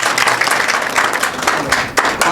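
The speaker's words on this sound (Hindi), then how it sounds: "तालियां बजा दीजिए एक बार।" Villagers clap together at an outdoor gathering in a village in Damoh, a steady, uneven patter of hands lasting a couple of seconds, with a voice faintly mixed in.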